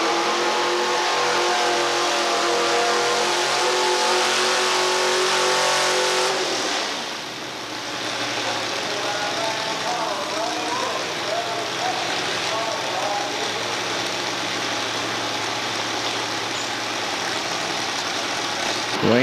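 A modified pulling truck's engine roars loudly and steadily at a 1987 outlaw modified truck and tractor sled pull in Murray, Kentucky, its pitch rising and dropping at about seven seconds before settling into a sustained, churning drone with a crowd in the background.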